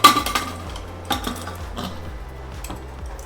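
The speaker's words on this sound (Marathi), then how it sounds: "चला आता मी कुकरमध्ये लावून घेते." A pot is set into a pressure cooker in a home kitchen, giving a sharp metal clank at the start, then several lighter knocks and clinks spaced through the rest, close up with no talking.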